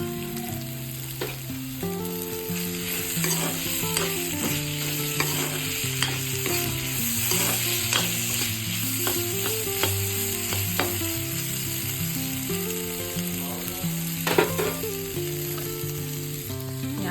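Curry with fresh coriander sizzles steadily in a pan while a spoon scrapes and stirs in quick, repeated strokes, close and continuous with no talking.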